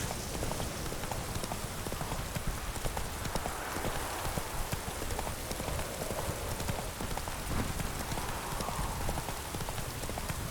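Rapid hoofbeats of a horse galloping in The Witcher 3, a dense, steady clip-clop rhythm running the whole time at moderate volume amid a faint rain-like patter.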